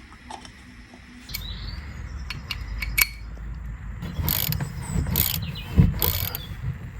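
A ratchet wrench tightens the oil filter housing cap on a BMW X1 F48 2.0 diesel during an oil change at home, giving a close, rapid train of mechanical clicks with short pauses and no talking.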